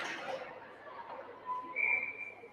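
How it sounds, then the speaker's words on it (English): Referee's whistle at a youth 12U ice hockey game, heard as a thin steady tone rising to a sharper, louder blast near the end over faint rink ambience. "And the whistle, as I think the puck got up into the netting down there."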